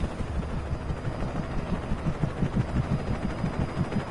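A helicopter in the video game Alan Wake, a steady low rotor thrum with rhythmic beating, loud and continuous throughout, with no talk.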